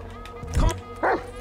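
A dog in the GTA video game gives two short barks, close and distinct, about half a second apart over a low background hum.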